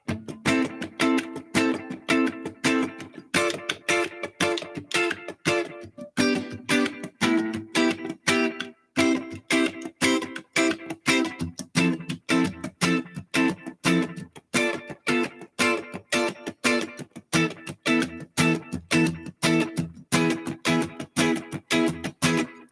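Rhythmic guitar chords strummed in a steady pattern, with short choppy muted strokes cutting between the ringing chords throughout.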